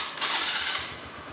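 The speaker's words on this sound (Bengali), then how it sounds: "চলুন ভিউয়ার্স, আমরা এবার এই বাইকটিকে একটু স্টার্ট দিয়ে দেখি।" A Keeway RKS 125 motorcycle engine starts with a brief, steady mechanical whir that settles into a low running rumble, close and fairly loud throughout.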